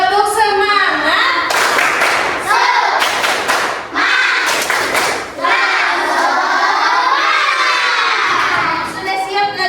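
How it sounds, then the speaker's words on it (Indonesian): A class of fourth-grade schoolchildren performs the rhythmic tepuk semangat clapping chant, sharp bursts of clapped patterns alternating with shouted chanting voices, loud and close in a classroom. "Sebelum belajar kita tepuk semangat dulu supaya semangat. Tepuk semangat."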